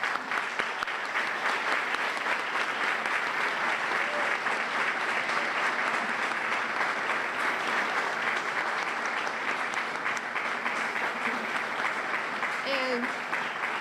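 An audience at an Evacuation Day ceremony gives sustained applause for the poster and essay contest winners, an even wash of many hands clapping at moderate distance throughout, with a faint voice briefly near the end.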